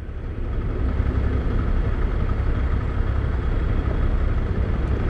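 Yamaha Crosser 150 ABS (2022) motorcycle engine while riding, a steady low rumble with constant wind and road roar, close and continuous throughout.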